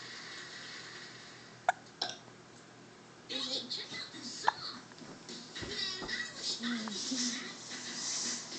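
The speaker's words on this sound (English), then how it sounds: "I got the hiccups." A young child gives a couple of short, sharp hiccups early on, followed by a child and an adult talking.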